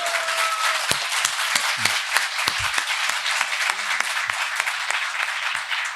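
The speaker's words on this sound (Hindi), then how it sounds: "एक बार तालियों से बताओ" An audience at a Hindi kavi sammelan comedy poetry event gives sustained, even applause, with a few sharper claps standing out near the front.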